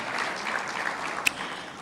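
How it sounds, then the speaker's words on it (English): An audience at an awards ceremony gives a round of applause, a moderate, fairly even spread of clapping from a crowd with a couple of sharper claps standing out. "Let's give them a round of applause, ladies and gentlemen."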